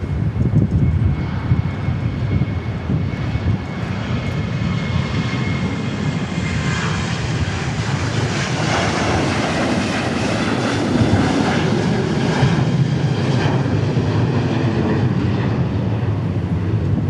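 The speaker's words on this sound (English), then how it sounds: "Southwest Airlines 737 taking off." A Southwest Airlines Boeing 737 takes off from Dallas Love Field with a sustained, loud, rumbling jet roar that holds steady throughout, broad and close.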